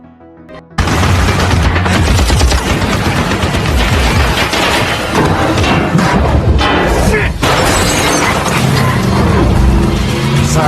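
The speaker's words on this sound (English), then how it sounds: "Joe managed to blow up Frank's car. The explosion instantly killed Frank." A car blown up in a film scene: a loud, sustained roar of blast and fiery debris starting abruptly after a brief quiet moment, rumbling on densely for about ten seconds with crackling bursts throughout.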